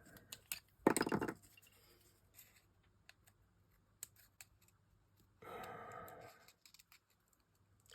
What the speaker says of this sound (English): Let me just cut this off.